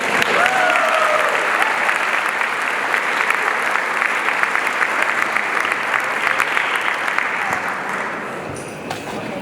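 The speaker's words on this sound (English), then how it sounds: "doesn't that deserve another round of applause?" A large gala audience breaks into sustained, dense applause that fills the room steadily for several seconds before easing slightly at the end, with a few cheers and voices mixed into the clapping.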